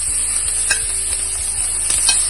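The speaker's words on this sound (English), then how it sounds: "we are frying the turkey sausage" Turkey sausage fries in a pan with bell peppers and onions, giving a steady, loud sizzle broken by a few soft clicks of stirring, with no voices.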